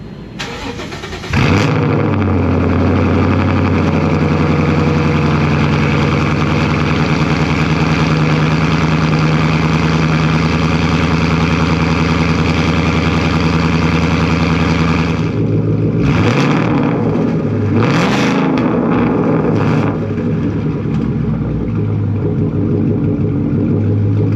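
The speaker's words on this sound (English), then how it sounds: "you guys are going to hear the first cold start" A 2014 Ford Mustang GT S197 V8 cranks and fires on a cold start, then settles into a loud, steady, throbbing idle before several sharp revs near the end.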